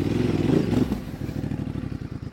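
A motorcycle climbing a steep off-road hill chugs close by in a low, uneven engine note, with clattering and scraping as it labours upward, the throttle pulsing in short bursts.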